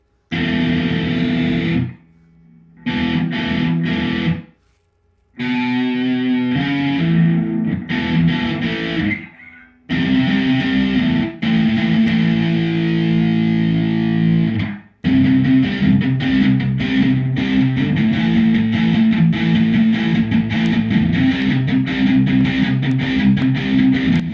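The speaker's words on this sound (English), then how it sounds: "We got a little distortion here. We're going to go to neck pickup." A 2001–2015 B.C. Rich electric guitar on its neck pickup plays distorted, warm, slightly muddy chords and riffs with echo and chorus effects, broken by a few brief pauses before continuing.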